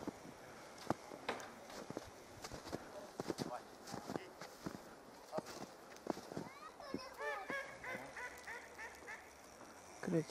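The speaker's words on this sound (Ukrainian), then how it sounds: "Кричать качки." Ducks quack faintly on a snow-covered lake in a town park in late autumn. Their nasal calls cluster in the later part, under people talking nearby and scattered footsteps.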